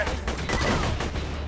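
Rapid automatic gunfire in the video game Borderlands, a dense, loud fusillade of shots rattling continuously for a moment.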